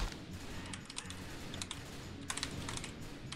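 Fast, continuous typing on a computer keyboard while playing The Typing of the Dead: Overkill, with rapid clicky keystrokes over a steady wash of game sound and faint gunfire effects.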